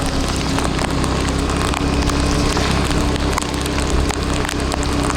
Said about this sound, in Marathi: मस्त पाऊस पडतोय.